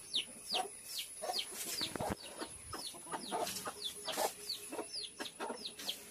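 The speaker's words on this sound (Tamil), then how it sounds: "ஸோ இந்த கோழி மட்டும் தான் முட்டை போட்டிருக்கு" A hen clucks over and over in a farmyard: a steady string of short, clear calls at close range, with faint background noise and no talking.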